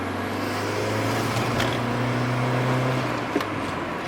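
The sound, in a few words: car engine running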